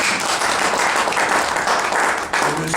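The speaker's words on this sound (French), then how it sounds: "Applaudissez-le." Wedding guests applaud the groom at a marriage celebration, a full, fairly loud burst of many hands clapping continuously, with a brief dip near the end and no voices on top.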